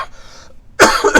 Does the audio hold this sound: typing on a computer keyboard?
no